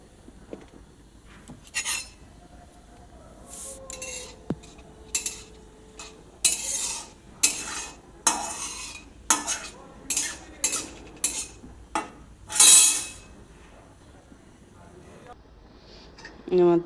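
Potato and pumpkin pieces go into a pan of hot oil and tempering for a vegetable curry, bringing irregular metallic scrapes and clinks of a spoon against the pan, some sharp and close, spread across a quiet background.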